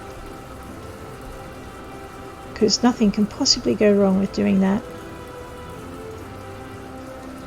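Rain falling in the video game My Time at Portia, a steady soft patter throughout, with someone speaking briefly over it.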